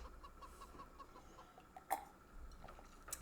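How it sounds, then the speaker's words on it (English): Video-game farm chickens cluck softly in short repeated bursts, faint and scattered over a low background, with one brief sharper peak partway through. "I'm so used to having to make friends with the chickens for Marnie."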